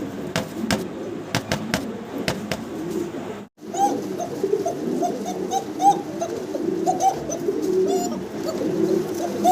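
Kokka pigeons coo steadily at close range, low repeated throaty calls filling the clip, with a few sharp clicks early on and a brief cut partway through.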